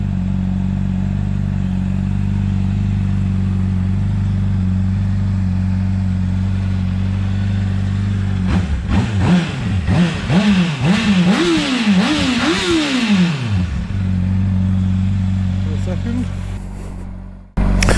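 A motorcycle engine idles low, then revs hard and climbs through several rising, gear-by-gear surges while riding before dropping back to a steady idle and cutting off abruptly.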